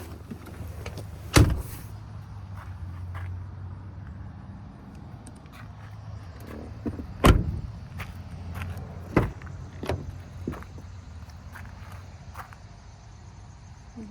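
A power driver seat in a Ford Edge Sport whirs with a low, steady motor hum inside the cabin, broken by several sharp clicks and thumps.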